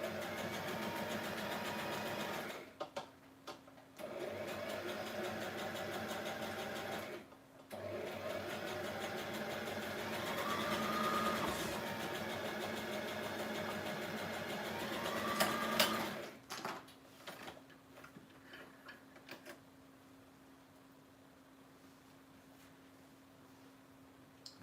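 A sewing machine sews cheesecloth in a steady mechanical whir with brief pauses, running for about sixteen seconds before stopping and leaving quiet room noise.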